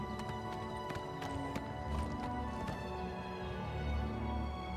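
A horse gallops in the video game Oblivion Remastered, with steady rapid hoofbeats over a dense game soundscape of background music and ambience, and no speech.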